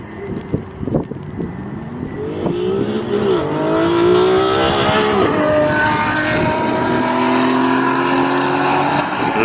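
A GTO hypercar makes an airport run, its engine roaring loud and close and climbing through rising revs before holding a sustained high wail, with wind noise behind it.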